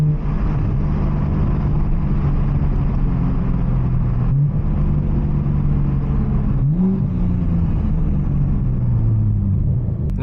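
A 500+ HP Toyota Supra engine drones loudly on a canyon drive, its pitch climbing and then dropping at two gear shifts, heard from inside the car.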